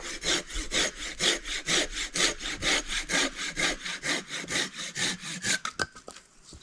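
Hand saw cutting through a log for campfire firewood outdoors, close and loud, with about twenty-five steady rasping back-and-forth strokes before the sawing stops and a few clicks follow.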